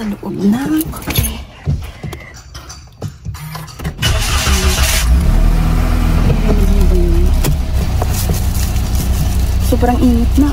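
A car engine cranks and catches, then settles into a loud, steady idle that continues to the end, with people talking over the start-up.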